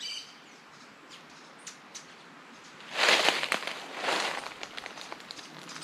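Outdoor birdsong with hummingbirds, including a rufous-tailed hummingbird, and a parakeet near pear trees with pink flowers: faint scattered chirps, then a louder burst of bright calls in the second half, no voices.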